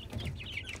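Young Blue Porcelain Brahma chicks peep in a quick run of high chirps, close and fairly quiet over a low background rumble.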